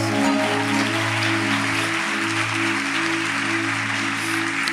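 A church congregation applauds in a dense, steady wash of clapping that holds at an even level throughout, loud and continuous, with no voices rising above it.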